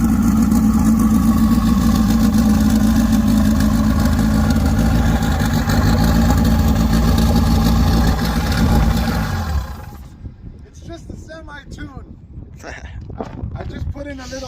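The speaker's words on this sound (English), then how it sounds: "I just put in a little base map semi-tune just to get it to start and idle, but as you can see, it's running rich" The engine of a turbocharged EM1 car, on a rough base map and running rich, idles with a loud, steady rumble for about ten seconds, then drops away while people talk.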